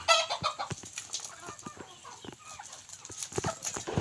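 Chickens and roosters at a Thai fowl yard cluck and call in scattered, uneven bursts, close and moderately loud, with faint background farm noise and no talk.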